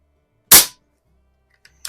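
A single sharp, loud crack from an Air Venturi Alpha compact air pistol, followed by a soft click and a faint second tap about a second later.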